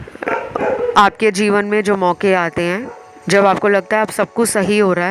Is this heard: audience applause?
no